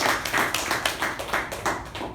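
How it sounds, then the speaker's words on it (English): A room of people at a Toastmasters meeting clapping together, the claps coming in brief pulsing swells rather than a dense roar, moderately loud and close, with no talking over it. "can we have a huge round of applause?"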